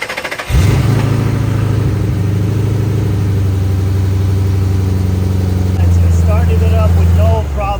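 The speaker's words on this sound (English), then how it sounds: "Started it up with no problems at all." A car engine cranks with a jump starter, catches and settles into a steady, loud idle that runs on for several seconds before cutting off, with no talk.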